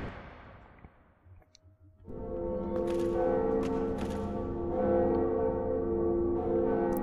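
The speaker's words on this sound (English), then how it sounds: "In our quest to ring the two bells." A large church bell in the Dark Souls video game strikes after a quiet moment, its deep resonant toll swelling loudly and sustaining with a long ringing hum.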